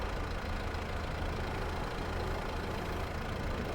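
A farm vehicle engine in Farming Simulator 22 runs steadily throughout as it maneuvers, giving a continuous low rumbling drone at a constant level with no speech over it.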